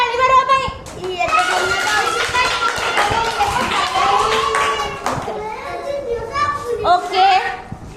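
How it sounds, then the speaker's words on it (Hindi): Young children clapping together during a classroom-style quiz about planets, with lively kids' voices and chatter layered over and around the bursts of applause. "अरे ताली मारो भाई"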